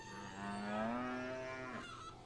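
A young tan calf moos in a pasture, one long drawn-out call that rises and holds steady with rich harmonics before breaking off, loud and close with no talking.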